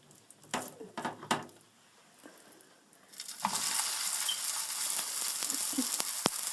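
Reziza batter hits a hot non-stick saucepan after a few utensil taps and clinks, then settles into a steady, bright sizzle that holds to the end.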